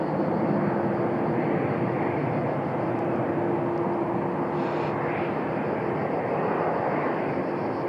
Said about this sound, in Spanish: esto es, bueno, un movimiento constante de aviones. En este caso despegando.